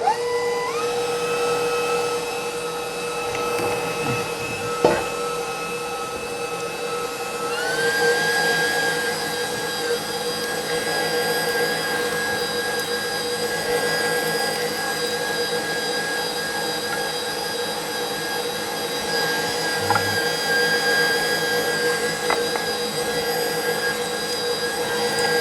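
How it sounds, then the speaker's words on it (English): An electric meat grinder works through about three pounds of fatty pork for chorizo, giving a steady, loud motor whine that runs the whole time with a faint shift in pitch partway through and no voices. "Now let's begin by grinding some of this pork."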